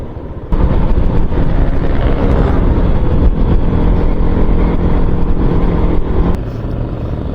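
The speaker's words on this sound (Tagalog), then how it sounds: "Nunahan pa ako nitong bike na may makina oh." A motorized bicycle's small engine drones past on a road near Silang during a ride toward Tagaytay, heard as a steady buzzing roar under heavy wind noise that eases slightly toward the end.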